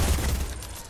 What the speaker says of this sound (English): Sounds like a minigun.